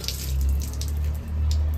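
Water splashes and pours steadily over a pandit during a home ritual, a continuous close wash of flowing water with no talk.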